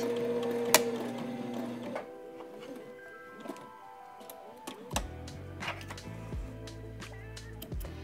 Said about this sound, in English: Then we're gonna backstitch at the end.